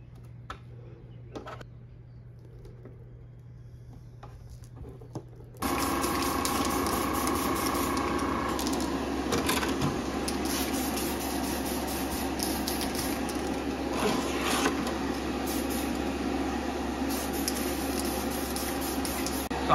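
Proline paint hisses steadily as it is sprayed onto a clear Tamiya Mercedes G320 Cabrio lexan body, a loud continuous spray that starts abruptly after a quiet stretch of faint handling noises and runs without a break.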